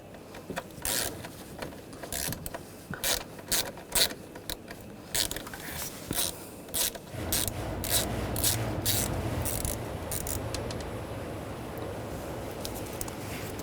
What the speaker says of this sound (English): And we'll take this screw out as well, T30 socket.